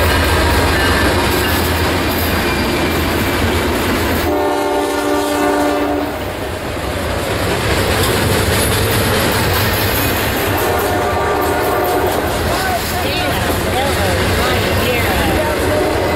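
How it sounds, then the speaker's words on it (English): Freight train led by two Dash 9 locomotives rolls past close by with a loud, continuous rumble and rattle of cars, and a long horn blast sounds around the middle of the pass. "You stupid train!"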